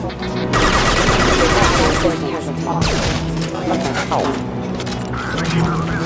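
Shotgun blasts in the video game Mass Effect 2 ring out amid a loud, continuous combat din, with shouted voices mixed into the chaos.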